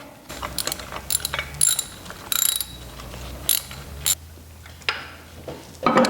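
A ratchet wrench tightening a nut on a bolt of a Nissan 300ZX engine stand, rapid clicking bursts repeated in short strokes, close and loud, with occasional metallic clinks.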